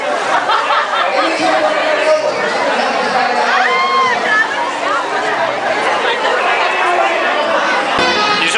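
Crowd pouring out of a movie screening at The Grove shopping center, a dense babble of many voices chattering with occasional shouts and laughter, steady and close throughout.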